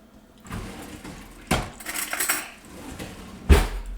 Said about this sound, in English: just using a spoon, and that's going to help us get all that extra liquid out